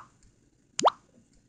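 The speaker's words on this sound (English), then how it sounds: "you should hear the bubble pop at increasingly lower volumes" A single short bubble-pop sound effect from a multimedia audio application, one quick rising plop against near silence, fairly faint and alone.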